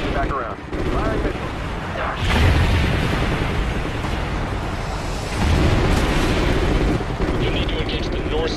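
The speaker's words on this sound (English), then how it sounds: "Firing missile." Missile launch and explosion in the video game Call of Duty: Ghosts, a loud sustained roar and blast rumbling through dense combat noise, with voices over radio chatter in the mix.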